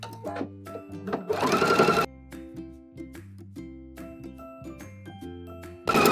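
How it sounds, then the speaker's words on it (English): A sewing machine stitches the inseam of high-waisted shorts, its motor whirring in steady bursts with brief stops and a louder rattling run near the start and again at the end. "we're also going to sew this up at a 1/2 inch"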